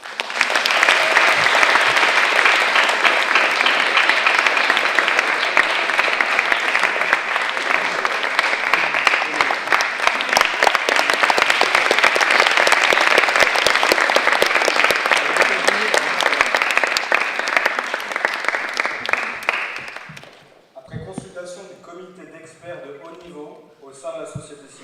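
A large audience applauds an award for the most deserving delegation, the Indian delegation, with dense sustained clapping for about twenty seconds before it cuts off and a voice begins speaking.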